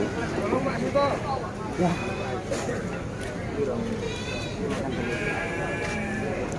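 Goats bleating at the Pahing livestock market in Trenggalek, several animals calling in short repeated bleats amid a busy crowd, with people talking and bargaining throughout.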